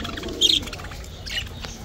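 Caged lovebirds at a Baghdad bird market give a couple of quick, high chirps close by over a steady background murmur of the market.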